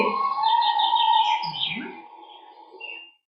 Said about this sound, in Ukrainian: Ми послухали звук птахів, так, коли відлітають журавлі, так вони курличуть